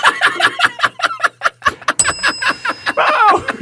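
A small bell rings with a sustained bright tone partway through, heard over lively laughter and chuckling voices.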